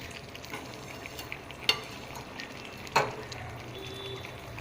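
Chicken sautéing and being stirred in a home kitchen pan, a steady low sizzle with a couple of sharp scraping knocks from the spoon, no talking.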